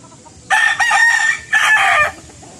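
A derby gamecock crows loudly nearby, a long strained call broken into two drawn-out bursts, with faint background noise and no talking.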